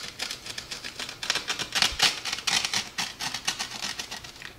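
Knife sawing through a crisp pizza crust, giving a run of close, dry crackling crunches in a quick uneven rhythm, with no talk.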